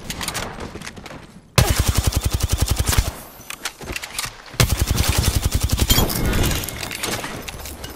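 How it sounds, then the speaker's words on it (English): Rapid automatic gunfire in a shooter video game, bursts of dense repeated shots with brief pauses between volleys, loud and close with no talking. "Getting shot at."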